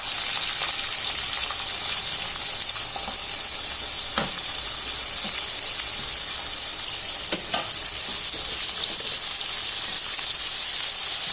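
Green chilies, curry leaves and onion fry in hot oil for an Andhra-style dry fish dish, giving a loud, steady sizzle with occasional faint clicks of stirring.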